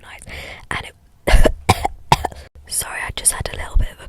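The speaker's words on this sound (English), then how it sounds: "sorry, I just had a little bit of a cough" A few short, sharp coughs break up quiet, breathy speech, loud and close.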